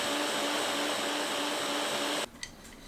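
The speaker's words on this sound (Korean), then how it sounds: "물 500ml 믹서에 넣고 곱게 갈아줍니다." A kitchen blender grinds chopped Chinese yam with 500 ml of water, a loud steady motor whine that runs continuously before cutting off abruptly, leaving a few faint clicks.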